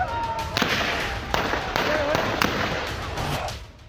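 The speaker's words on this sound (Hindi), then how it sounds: "LA-12 कोटली में गोलियां चलती रहीं" Sharp cracks of gunfire at a polling station in Kotli during Azad Jammu and Kashmir assembly elections, several reports scattered across a few seconds amid a noisy crowd with voices talking throughout.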